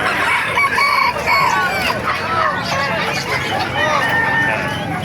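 Roosters of the golden boy sweater breed crow repeatedly at a busy poultry market in Calumpit, Bulacan, with clucking fowl and a steady babble of crowd chatter underneath.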